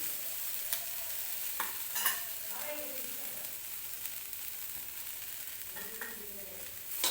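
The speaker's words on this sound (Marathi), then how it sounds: "त्यामुळं कढईच घेते मी हे भाजताना" Sweet corn cobs roast in a kadai wok, with faint sizzling and occasional scraping and turning sounds, quiet and close, with brief voices in the background.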